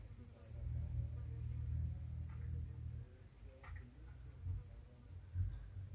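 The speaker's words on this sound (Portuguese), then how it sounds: "Parece que é um zangão" A bumblebee buzzing around flowers in a backyard garden, a low droning hum that swells and fades as it moves between blooms, faint and outdoors.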